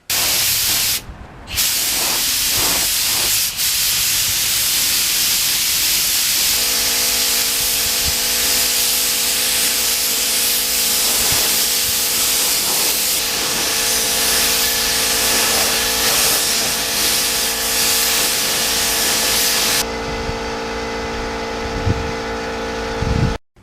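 Spray gun laying clear coat onto a BMW part: a steady, loud, continuous hiss of atomized spray lasting about twenty seconds, with brief pauses near the start and a steady hum beneath.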